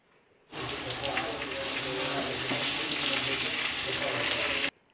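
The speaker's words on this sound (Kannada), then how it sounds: "ಅದರಿಂದ ಚೆನ್ನಾಗಿ ಬ್ರೌನೀಸ್ ಆಗೋವರೆಗೂ ಫ್ರೈ ಆಗಲಿ." Avalakki, or flattened rice, fries in hot oil with a steady, close hiss and crackle that starts abruptly and runs continuously before cutting off.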